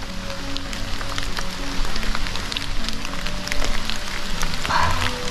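Light drizzle falls around an old building at a hidden spot, a fine continuous patter of drops on surfaces with scattered ticks and taps, fairly close and steady throughout.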